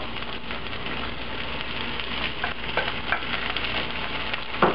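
Bok choy leaves sauté in a pan with a continuous close sizzle, crackling steadily with a few louder pops toward the end, no voices.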